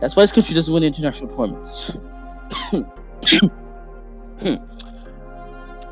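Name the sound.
coughing and throat clearing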